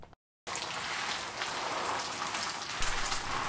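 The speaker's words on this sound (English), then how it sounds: "So just water them in." Seedling trays of dry growing media are watered, a dense, steady hiss of spray pattering across the surface after a brief silent gap at the start.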